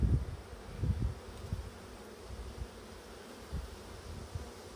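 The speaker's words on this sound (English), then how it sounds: "A few inquisitive bees around my head" Honeybees buzz around an open beehive during an inspection, faint close passes of single bees rising and fading in short bursts over quiet background.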